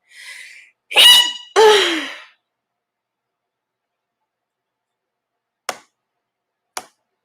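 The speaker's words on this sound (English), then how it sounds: "And I have to sneeze." A single sharp sneeze with a quick breath in before it, followed by silence and two faint clicks.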